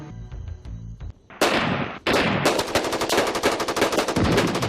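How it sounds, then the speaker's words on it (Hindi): Heavy mortar and artillery shell fire in a war scene: loud, dense bursts of rapid, cracking gunfire-like blasts, briefly pausing, then resuming in a sustained, relentless barrage. "जवाब आया भारी मोर्टार और तोप के गोलों से"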